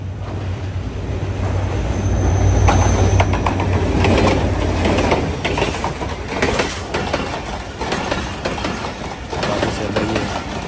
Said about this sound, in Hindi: बारिश इस वक्त यहाँ पे हो रही है और रेलगाड़ी इस वक्त सामने से आ रही है।